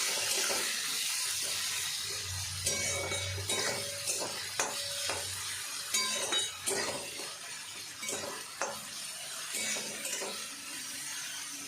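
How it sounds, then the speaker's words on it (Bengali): Chopped onions softening in a pan with salt, a quiet sizzle under repeated clinks and scrapes of a spoon stirring against the pan, close and fairly faint. "পেঁয়াজটা একটু নরম করে ভেজে নিই।"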